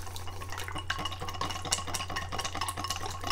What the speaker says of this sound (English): do a little whisking and then add some oil